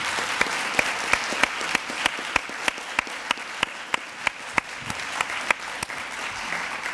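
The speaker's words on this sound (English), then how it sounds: "Please, a round of applause for our honorees" An audience applauds honorees at a Morris County ceremony, dense sustained clapping from a room full of people, with a few sharp individual claps standing out clearly throughout.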